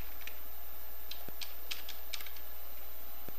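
Someone types on a computer keyboard, a handful of light, quick key clicks in an irregular burst, close and faint over a steady background hiss.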